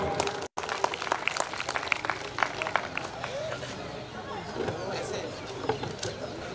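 Audience claps together at a club's 60th founding-day celebration, a dense, steady patter of hands that fills the room after a brief cut near the start, with voices mixed in.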